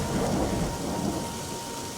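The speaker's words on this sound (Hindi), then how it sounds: "तभी रास्ते में जोरों की बारिश होने" Heavy rain pours steadily in a dense hiss, with a deep thunder rumble rolling underneath, loud and continuous throughout.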